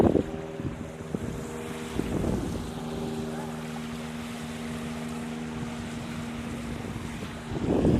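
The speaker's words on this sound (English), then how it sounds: "I don't believe it's just the wind. I think the tide is actually coming in." Steady wind buffets the microphone at the seashore as the incoming tide washes in, a continuous rushing wash with low droning hum throughout and louder gusts at the start and end.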